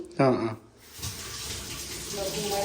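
A brief voice gives way to water running steadily from a tap, a continuous splashing rush as vegetables are rinsed of soil beneath it.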